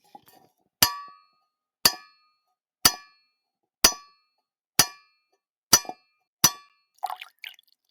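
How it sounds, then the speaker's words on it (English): Metal mallet striking a boat's shaft, seven sharp ringing clanks about a second apart, each with a bright metallic decay, followed by faint trickling water. "As I was hammering at the shaft,"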